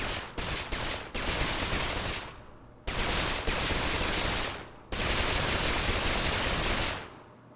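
Dual pistols firing in a custom video game level, a few rapid sharp shots and then long sustained bursts of loud continuous fire, each stream cutting off abruptly, with no talking.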